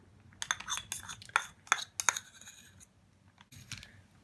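A metal spoon scraping and tapping against an empty bowl while a tablespoon of cream is added, a run of bright clinks and scrapes close by with a short pause before a few final taps.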